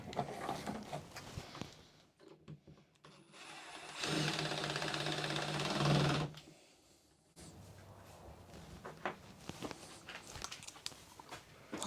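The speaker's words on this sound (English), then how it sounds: "All right, get her screwed down." Outfeed workbench parts for a SawStop Jobsite Pro being screwed down in a shop: a sustained whirring power-driver burst of about two seconds, framed by clattering, handling noises and rustle before and after.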